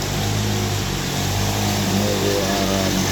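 Motorcycle engine droning steadily as it rides through a street in Sungguminasa, Gowa, flooded calf-deep, with a constant low hum and broad wash of noise, no voices.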